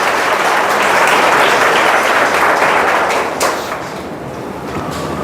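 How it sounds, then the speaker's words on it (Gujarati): A crowd at an institution for blind residents claps warmly to welcome a visiting family, a loud, dense burst of applause that holds steady and then thins out toward the end. "આપણે સૌ તેમનું તાળીઓથી સ્વાગત કરીએ"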